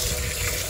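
Glutinous rice being washed under a running tap, a steady close gush of water pouring over the grains for a brief moment, with no talk.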